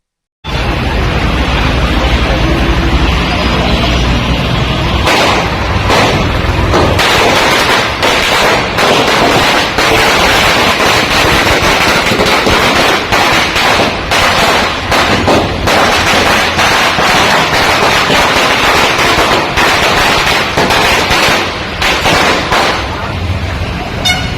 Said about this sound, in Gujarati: કાર્યકરોએ જીતના પેંડા વહેંચી ફટાકડા ફોડ્યા હતા